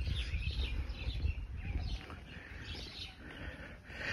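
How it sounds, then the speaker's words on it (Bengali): Birds chirp and call along a path lined with rows of akashmoni trees beside watermelon fields, a steady layer of small calls over soft outdoor ambience. "পাখির কিচিরমিচির ডাক"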